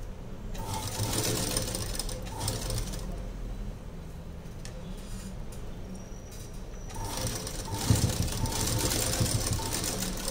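A sewing machine runs steadily, stitching along a neatly folded blouse edge, a close continuous mechanical hum with a brief lull midway before the stitching picks up again, no talk over it.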